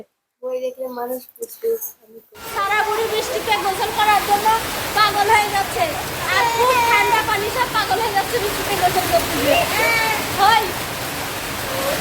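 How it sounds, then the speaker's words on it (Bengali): Rain starts suddenly after a quiet moment and becomes a steady, heavy rushing wash. People, including a child, talk over it throughout. "বৃষ্টি হচ্ছে আর মেঘ বৃষ্টি"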